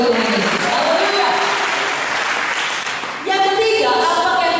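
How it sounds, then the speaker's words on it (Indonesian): A church congregation breaks into loud, sustained applause that fills the room, clapping strongly, easing slightly and then swelling again, with voices and shouts mixed into the clapping. "Berikan tepuk tangan bagi Tuhan Yesus."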